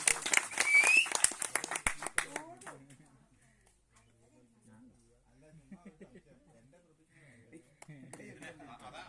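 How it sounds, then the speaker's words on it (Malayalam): An audience at a Kottayam Parivar organisation meeting claps for about two seconds, a dense burst of applause that stops abruptly, followed by quieter talking and murmuring in the hall. "എല്ലാവർക്കും അവർക്ക് ഒന്നുകൂടി കൈയടിച്ച് പ്രോത്സാഹനം കൊടുക്കും"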